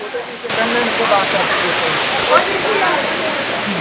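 Mettuguda waterfall near Seethampeta in Srikakulam gives a steady, loud wash of falling water that fills the whole scene, with a brief swell midway and a few voices faintly audible through the roar.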